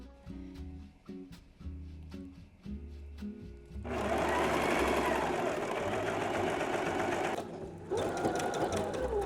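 Sewing machine top stitching a summer dress, first a few short stop-start bursts of stitching, then a loud, steady close run with one brief pause before it resumes.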